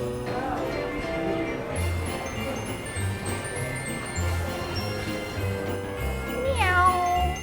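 A cat meows a few times at moderate distance, drawn-out rising cries that stand out toward the end over a busy indoor background with faint jingling and some talk.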